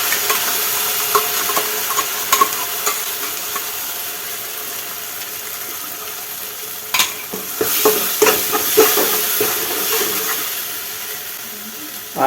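Ground spice paste frying and being stirred in a kadai for shahi paneer, a steady sizzle and hiss with scraping stir strokes, briefly louder bursts midway, no voices.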